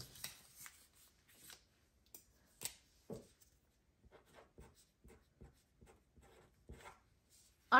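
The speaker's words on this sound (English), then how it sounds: "I'm just going to go ahead and write down that total on a little piece of scratch paper." A pen scratches out a total on a small piece of scratch paper, quiet close-up strokes in short irregular bursts with pauses between.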